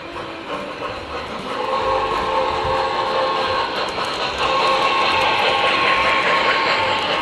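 An MTH RailKing O scale 4-6-2 Forty Niner model steam locomotive with a flywheel-equipped motor running on track, giving a continuous close mechanical whir and rattle that grows slightly louder partway through.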